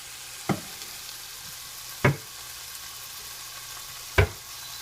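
Cumin and paprika sizzle softly in a pot while a spoon scrapes through them in three separate strokes, each a short, close stir over a steady low frying hiss with no talking.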